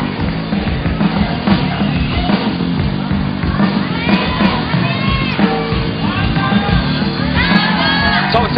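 Loud crowd at a bouldering World Cup final in Log Dragomer, Slovenia, cheering, whooping and shouting continuously in support of a climber, with a commentator talking over the roar.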